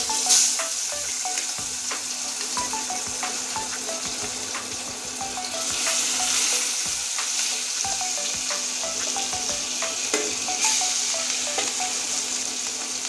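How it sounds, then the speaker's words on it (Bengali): Pieces of rohu fish frying in hot oil, a steady close crackling sizzle with frequent small pops and spatters throughout. "এই মাছগুলো প্রথমে ভেজে নেব।"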